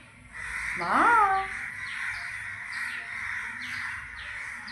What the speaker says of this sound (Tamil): பாடி காக்காலாம் கத்துது பாருப்பா இங்கே இல்லை மாடியில் கத்துது